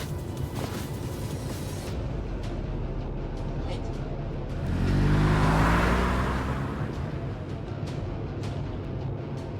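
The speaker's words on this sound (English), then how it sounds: "The car emerges from the tunnel and races through the streets from the killing zone." A car in the video game Love and Deepspace emerges from a tunnel and races through city streets, its engine rumbling under constant game noise and swelling into a loud pass around the middle.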